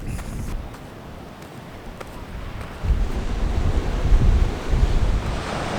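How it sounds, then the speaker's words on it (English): Strong ocean waves break and surge onto a beach in Lombok, a continuous roaring wash that swells louder partway through, with gusty wind buffeting the microphone. "The waves are quite strong, so it's actually quite dangerous to go to the rocks."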